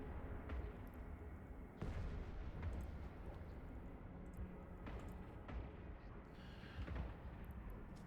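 Ships in the space game Eve Online fire their weapons, producing repeated heavy booming thuds, about a dozen over several seconds, above a constant deep rumble with some quiet speech mixed in.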